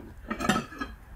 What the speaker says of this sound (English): A little glass bowl.